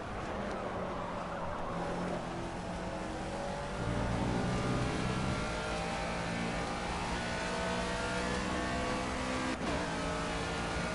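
A Le Mans-type race car in Project CARS, driven on a flying lap, holds a loud, continuous engine note with rising revs and a gear shift partway through, sustained without pause.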